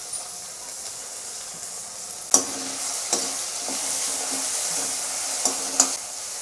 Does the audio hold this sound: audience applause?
no